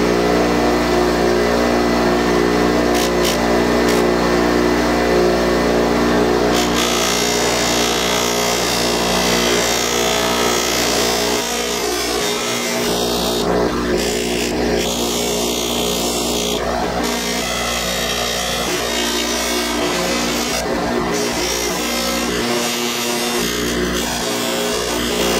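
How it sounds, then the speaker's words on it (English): Motorized buffing wheel whirs loudly and steadily while a briar pipe with its vulcanite stem is polished, a continuous close drone holding for the whole stretch with slight changes as the piece is pressed. "now I'm ready to buff it with the stem"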